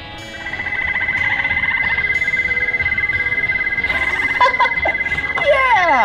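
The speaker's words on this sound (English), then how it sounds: "that's the toad" A toad's call played back in a children's animal guessing game: a sustained, trilling croak that rises and warbles for several seconds, loud and close, with faint voices and a few brief electronic chirps near the end.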